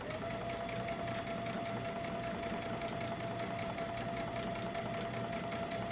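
A sewing machine runs steadily as it stitches fabric along piping for a reading book pillow, a fast even whirring hum that stays quiet and constant throughout, with no talk.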